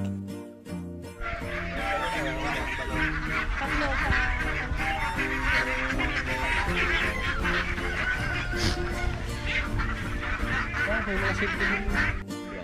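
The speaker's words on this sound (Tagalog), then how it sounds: "meron nga din pala sila mga alaga dito na mga itik" A flock of ducks on a free-range poultry farm quack and honk loudly and continuously, many birds calling over one another close by.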